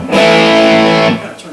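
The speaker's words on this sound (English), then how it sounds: "that pickup takes on a little bit different character when you put distortion into it" An electric guitar fitted with a TV Jones pickup plays through distortion: one loud, sustained, gritty chord that rings for about a second, then cuts off sharply.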